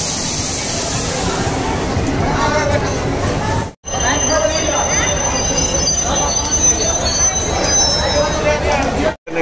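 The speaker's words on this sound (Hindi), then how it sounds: "ये सब आगे ट्रेन आ गई" A Nepal Railway train pulls into Janakpur Dham station, its wheels and carriages rumbling loudly and steadily with high metallic squeals from the rails, close by and filling the scene, with a crowd's noise around it.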